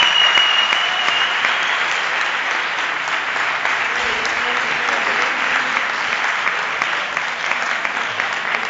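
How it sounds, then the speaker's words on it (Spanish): An audience at a film festival awards ceremony claps in a dense, loud, continuous burst that carries on for nearly nine seconds, with no one speaking over it. "Un aplauso de nuevo. Que se han ganado."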